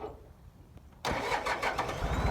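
A 16-horsepower Mitsubishi diesel engine on a grass-cutting tractor cranks and catches abruptly, then runs with a loud, rough, rattling idle close by.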